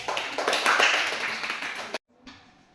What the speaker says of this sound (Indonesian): Berikan aplaus untuk Hanif.